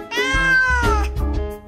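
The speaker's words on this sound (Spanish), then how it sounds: "Primero, escuchemos el maullido de los gatos." A house cat gives two loud, close meows in quick succession, drawn out and tonal, with nothing else heard.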